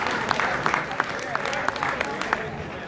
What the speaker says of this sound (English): Clap your hands for the Jamaican men.